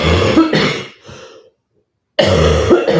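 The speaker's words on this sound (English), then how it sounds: "that beautiful cough is going to show up" Close, harsh coughs come in short bursts at the start, then a silent gap, then another pair of rough coughs.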